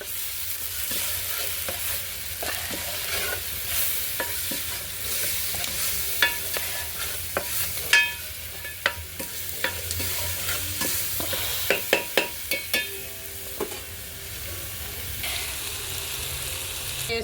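Fish curry with salt, turmeric and curry leaves being stirred in a pot over a wood fire: a continuous sizzle with repeated scraping and clinking spoon strokes against the pot, close and fairly loud.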